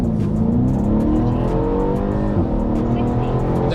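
A 700 BHP Mercedes E63 AMG accelerating hard with its tires fighting for traction: a loud, continuous engine roar climbing steadily in pitch, heard close up.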